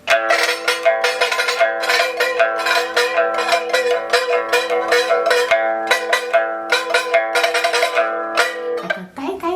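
A pipa imitates a Chinese gong with repeated struck, ringing chords in a steady pulsing rhythm, loud and resonant with sustained overtones, ending in a brief scraping flourish.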